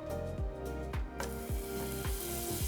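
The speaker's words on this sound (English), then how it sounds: "You should hear a little bit of a sizzle when you press them down." Gluten-free arepas sizzle in a hot pan over a medium-high flame, a steady frying crackle with several soft thumps and scrapes as the dough is pressed down.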